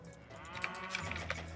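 Video game cows moo in a drawn-out, close call with a few soft clicks and thumps around it, and no talking.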